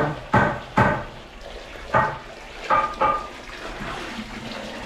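Water is poured into a container in a series of short splashing bursts with pauses between them, set against faint background noise.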